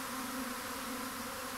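Dense, steady buzzing of a honeybee swarm settling into a hive case, a continuous droning hum holding even throughout with no voices.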